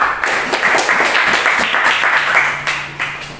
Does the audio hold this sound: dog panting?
no